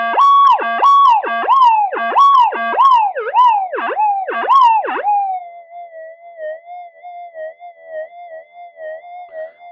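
A metal detector overloads over a smooth gold nugget, giving a loud electronic tone that wobbles up and down in quick repeated swoops for about five seconds, then settles into a quieter, gently warbling steady tone.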